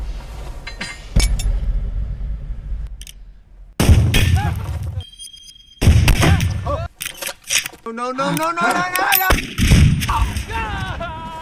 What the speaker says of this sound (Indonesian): salah satu pencuri pun mati ditembak oleh si petani